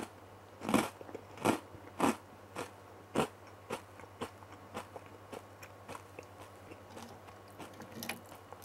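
Crisp bites and crunchy chewing of a salted Kingodo rice cracker, close up, with several loud sharp crunches early on, then a run of lighter, regular chewing crackles.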